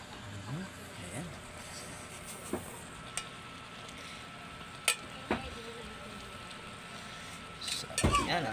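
Food is stirred in a cooking pan for a vegetable dish with shrimp paste and pork fat, faint frying hiss with occasional utensil clinks and scrapes against the pan, under someone talking.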